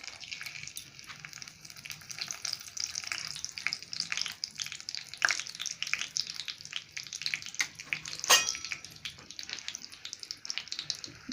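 Whole spices (bay leaf, dried red chillies, whole garam masala) crackle in hot oil as a tempering for a Bengali paneer, peas and cauliflower curry, a steady soft hiss with scattered pops and occasional stirring clicks.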